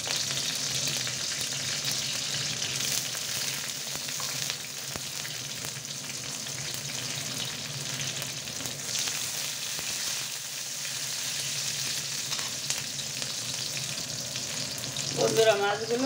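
A bay leaf and slit green chillies sizzle in hot oil for a Bengali green-banana fish curry. A continuous faint frying hiss with occasional crackles runs throughout, and a brief clatter comes near the end, with no voices.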